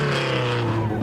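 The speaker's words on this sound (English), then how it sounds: "We can hear a few revs, so another one of our little maybe 10 cars." A race car engine at the Finke Desert Race drones at high revs with a steady tonal whine, close and loud, briefly captured.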